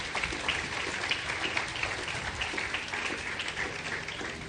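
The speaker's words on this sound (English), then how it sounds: "Let's give them a round of applause." A crowd at a secondary school graduation ceremony applauds with steady, dense clapping that fills the whole stretch at an even level, heard through a slightly muffled, band-limited recording with no speech.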